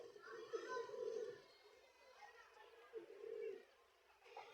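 Racing pigeons coo in low, soft bursts around a loft, with children's voices and chatter audible in the background between the calls.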